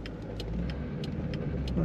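A 2003 Chevrolet Corvette 50th Anniversary convertible drives on dry winter roads in Minnesota, its engine a steady low rumble with faint rhythmic ticking above.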